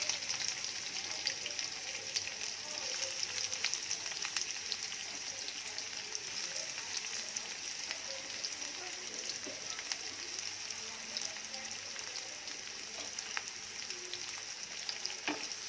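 Sliced onions sauté in a pan, giving a steady, even sizzle with occasional light crackles and stirring sounds, close and moderately quiet, with no talking.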